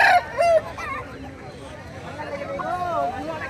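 Chickens cluck and squawk amid the busy hubbub of a village market, with vendors and shoppers chatting close by as the birds' short, irregular calls rise over the crowd noise.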